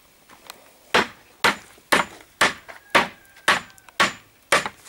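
A hammer drives a nail into wood outdoors at a rural homestead, with about eight sharp, evenly spaced blows ringing close and loud.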